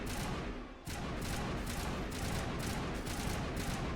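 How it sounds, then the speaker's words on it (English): Gunfire in the video game Mass Effect: dense, rapid automatic bursts blending into a loud, continuous stream of shots, with a brief dip before the firing resumes at full intensity. "Is there another thing that you're shooting at?"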